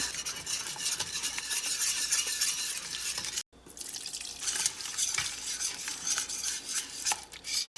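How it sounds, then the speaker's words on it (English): Whisk scraping and stirring milk into a simmering sauce for a seafood casserole in a pot, a close, continuous rhythmic swishing with metallic scrapes, briefly cut off midway before resuming. "And you whisk it constantly."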